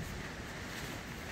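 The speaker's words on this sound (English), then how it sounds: "it's extremely windy today" Strong wind buffeting an inflatable air shelter at a campsite on Upper Booth Farm, a loud, continuous roaring rush with no breaks, blasting right against the microphone.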